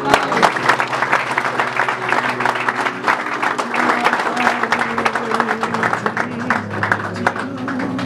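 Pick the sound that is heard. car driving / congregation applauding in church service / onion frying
congregation applauding in church service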